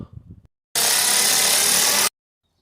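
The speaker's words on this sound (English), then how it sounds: "we're just going to remove 3 10mm bolts" A 10mm tensioner bolt on a Peugeot Partner 1.6 HDi engine is loosened with a power tool, one loud, harsh whirring burst lasting over a second after a short knock.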